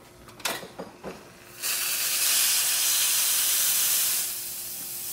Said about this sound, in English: Let's test the steam.